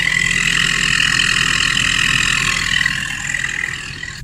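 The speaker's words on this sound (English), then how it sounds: "So already you hear the chirping. That's it at idle." A car engine idles with an aftermarket turbo simulator fitted, giving a steady, close, loud rumble with a continuous high whistling chirp layered on top that eases slightly toward the end, with no talking.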